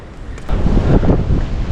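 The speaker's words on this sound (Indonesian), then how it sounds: "Angin kok ngene." A strong mountain wind buffets the microphone on the summit of Mount Sindoro, a loud, low rumbling gust that swells after a brief lull and keeps blowing with no voices.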